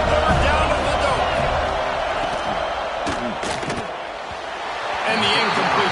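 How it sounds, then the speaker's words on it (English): A Florida State stadium crowd roars and chants the chop on third down against Alabama, a loud continuous wall of noise with rhythmic chanting and a few sharp thuds, voices blending within it. "They're bringing the chop. They're bringing the noise on 3rd down at the door."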